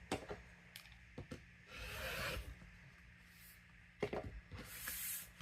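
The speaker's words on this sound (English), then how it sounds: "So first, I'm just gonna do a nice even cut." Cork fabric being cut while sewing a cork pouch: a few crisp clicks and a longer rasping, scraping pass, close and quiet, repeated once more near the end, with no talk.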